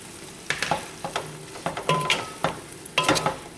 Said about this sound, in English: toss to coat in that bacon and sweet and sour syrup we have at the bottom